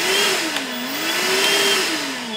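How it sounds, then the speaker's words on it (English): A battery-powered Milwaukee Packout vacuum runs steadily up close, its motor hum wavering slightly in pitch under an airy rushing whir. "then comes the Milwaukee Packout vacuum system."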